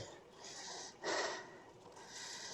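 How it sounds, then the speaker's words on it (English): Heavy breathing close to the microphone from a rider on a Pedibal Navigata Mk2 folding e-bike, with repeated loud exhales and gasps over a soft rushing background. "you probably hear me breathing heavy"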